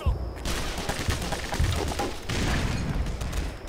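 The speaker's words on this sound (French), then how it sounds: "Grenade!" Gunfire with a grenade blast from the video game Black Mesa: dense, rolling bursts of shots and thumps fill the whole stretch at steady loudness, with a brief lull before another heavy volley.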